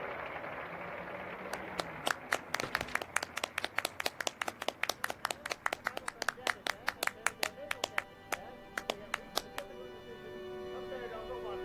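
A small group of people clap together in a quiet room at night, the hand claps arriving as a fast, uneven run of sharp slaps that thin out and scatter toward the end, with no talking.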